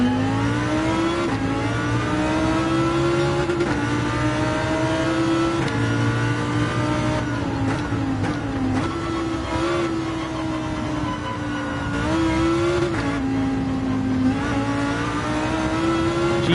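Race cars in Gran Turismo 7 at Interlagos drone with a loud, steady engine tone that rises and falls through gear shifts, with other cars' engines whooshing past during close online racing.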